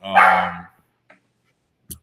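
A dog gives one loud, close bark with a rough, voiced tone, followed by a faint short yip and a brief soft noise in otherwise quiet surroundings.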